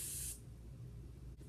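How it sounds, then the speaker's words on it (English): Hairspray bursts from an aerosol can in one short close hiss onto a half up-do roll hairstyle, then cuts off, leaving quiet room tone. "And then spray."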